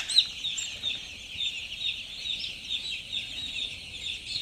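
Chicks and chickens on a poultry farm peep and cluck continuously, a thin high chirping chorus at moderate volume with soft scratchy background noise and no voices.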